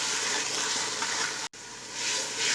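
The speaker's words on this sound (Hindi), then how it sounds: "1 से 2 मिनट तक भूनेंगे प्याज को।" Onions frying in a pot with cumin seeds, green chillies and salt, a steady close sizzle and hiss with faint stirring, broken by one brief silent gap.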